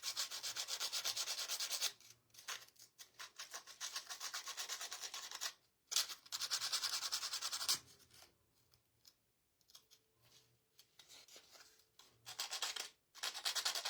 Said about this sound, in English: I'm going to see if I can't just sand it.